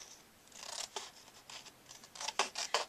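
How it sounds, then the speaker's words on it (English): Scissors snip around a paper square for a handmade card in a few quick, close, crisp cuts, with small rustles of paper between them. "I'm going to turn it this way so that maybe I can cut it easier with my scissors"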